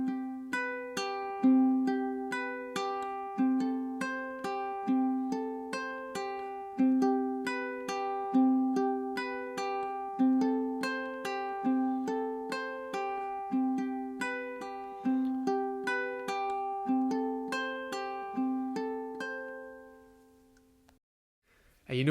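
Plucked ukulele plays a steady fingerstyle pattern, bright repeated notes over a rhythmic chord cycle, close and clear, ending with a short pause.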